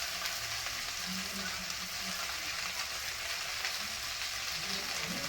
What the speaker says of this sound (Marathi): आता हिला दहा मिनिटं चांगली परतून द्यायची